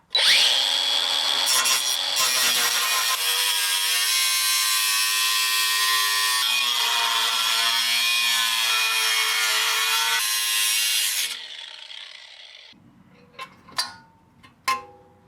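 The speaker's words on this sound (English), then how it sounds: "I'm just going to cut a notch here" A power saw cuts a notch in the dust shield of a 1997 Ford F-150 truck, a loud, steady, high-pitched grinding whine lasting about eleven seconds before it cuts off, followed by a few sharp clicks and taps.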